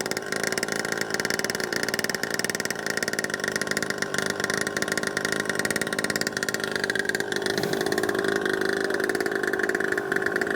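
A 49cc pocket bike engine runs at idle just after starting, a steady buzzy drone that holds even and close for the whole stretch, with no talk over it.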